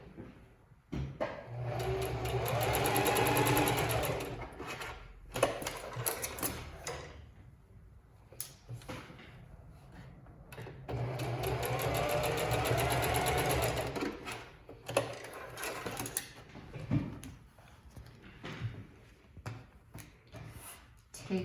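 Sewing machine stitching back over the ear folds of a panda tote, two sustained runs of close mechanical whirring with ticks and handling clatter between them, and a voice talking at times.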